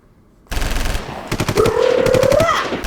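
Burst of rapid gunfire sound effect, loud and close, with a sustained rattling volley followed by a rising whine over a dense background of crackling shots.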